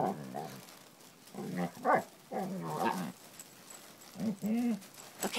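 A basset hound whimpers and whines in short, rising bursts, close by and fairly quiet, with brief pauses between cries.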